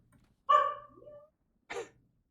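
A dog barks twice, a sharp bark with a trailing whine followed by a shorter second bark, fairly close in a quiet room.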